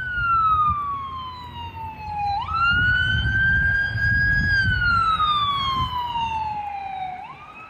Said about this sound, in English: About that ambulance.